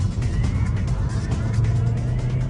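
A Mini Cooper S drives along a winding mountain road, its engine a steady, close, low hum with road rumble that holds constant through the short stretch.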